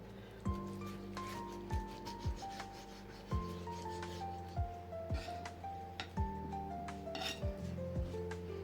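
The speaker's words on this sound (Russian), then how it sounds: "Отрежу кусочек, покажу, какая она внутри." A knife cuts through a baked pizza, giving a series of rubbing, scraping strokes against the crust and pan, steady and close with a few sharp onsets between them, and no talk.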